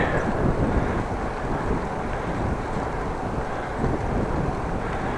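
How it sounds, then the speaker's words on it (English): Headwind roars across the microphone of a cyclist riding a Dutch bike on a road in the Netherlands, a steady, loud, broadband rushing buffet with no speech over it. "A little bit of headwind today, at least this part."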